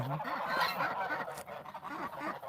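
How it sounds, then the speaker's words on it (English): Geese and ducks being fed corn honk and squawk in a busy, overlapping cluster, a fairly quiet flock sounding close together. "Okay, corn here. You, ducks. Come on, eat."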